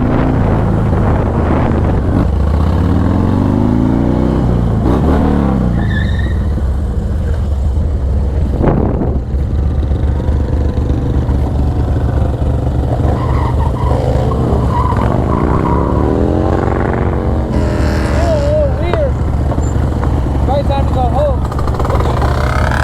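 A dirt bike engine revs hard with rising and falling pitch, tires skidding across the ground in long sweeps, loud and continuous throughout with a rider's voice underneath.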